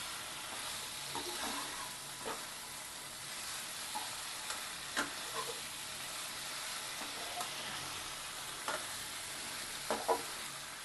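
Vegetables and spices for a pumpkin and prawn curry sizzle steadily in a pan, with a continuous frying hiss and occasional scrapes and taps of the stirring spoon.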